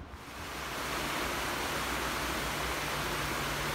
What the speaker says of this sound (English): Look at this for a waterfall.